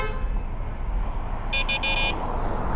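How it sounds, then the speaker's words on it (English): Car horn honking on a street, a couple of short bursting toots in quick succession, moderately distant, over steady road and wind rumble heard from a moving electric bike. "Who's honking?"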